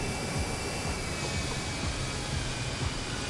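A gas turbine powered car lapping the Nordschleife gives off a steady, high turbine whine over loud, constant rushing noise, with no gaps or pauses.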